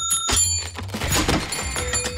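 Bright metallic death-bell tones ring out in quick succession over low thumps and clattering, played close and fairly loud.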